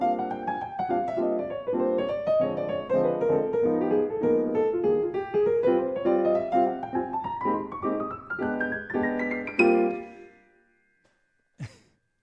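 A melodic instrument plays a fast bebop-style run of stepwise chromatic scale notes descending then climbing back up, ending on a high note, followed by a brief thump.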